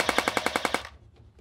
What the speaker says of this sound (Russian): Чтобы произвести выстрел очередью, ну, в автоматическом режиме, спуск надо утопить глубже.